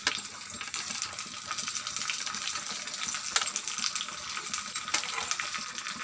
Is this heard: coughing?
no